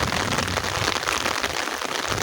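Rain falling on a rural Sundanese morning in West Java, a steady, dense hiss of drops pattering on surfaces, close and continuous with no voices.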